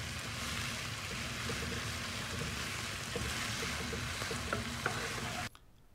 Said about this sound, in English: Then saute the sliced beef.